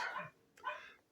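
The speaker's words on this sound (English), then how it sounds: "And my dogs are barking." A few quick barks from dogs in a home workshop, faint and somewhat distant, coming in two or three short bursts with no talk over them.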